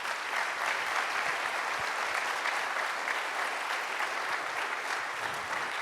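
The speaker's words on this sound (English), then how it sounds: "give everybody who participated in any way in this, but especially those who are finalists and near finalists, a big round of applause" A large audience at a talent competition gives finalists and participants a sustained round of applause, thick and even clapping that stays strong for several seconds.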